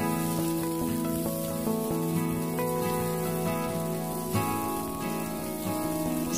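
Snow peas stir-fry in a wok over high heat for a Hong Kong-style dish with carrot and chicken, giving a steady, close sizzle that runs throughout under background music.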